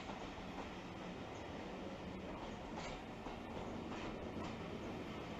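A steam train running on the Paignton to Dartmouth line, a steady rolling rumble with the clatter of carriages and wheels on rails, heard fairly close and unbroken, without speech.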